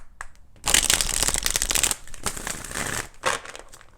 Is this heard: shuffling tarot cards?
yes